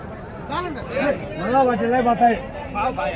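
Sheep bleat loudly and close at a busy livestock market in Angallu around Eid, several wavering cries overlapping one another against a murmur of crowd noise.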